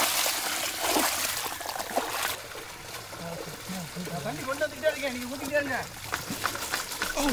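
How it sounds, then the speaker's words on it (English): Water trickles and splashes out through holes in the side of a bucket during outdoor village cooking, where chicken is being rinsed. The sound is a continuous, uneven dribble with people talking over it. "Drains the bucket of water while you get to rinse the chicken clean, nice and clean."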